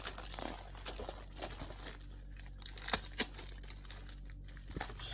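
Strong adhesive tape being handled while fitting Rallyflapz mud flaps to a Vauxhall Corsa VXR: close crinkling, crackling and peeling, with sharper snaps in irregular bursts over steady low background rumble.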